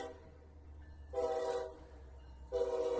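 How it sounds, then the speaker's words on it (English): Train horn sounding in two loud blasts over low rumbling rail noise at a crossing where a car towing a trailer is caught, with a steady low rumble between the blasts. "The train."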